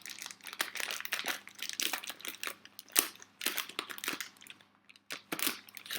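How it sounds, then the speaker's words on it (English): Scissors snip and crinkle through a plastic pasta packet close up, a run of short crackling cuts and rustles in irregular bursts, fairly quiet and with no talking. "Cut the pasta up."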